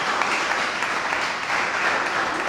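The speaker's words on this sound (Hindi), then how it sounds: "इसको जोरदार तालियों से।" An audience at a talk applauds steadily and loudly, a dense continuous wash of clapping.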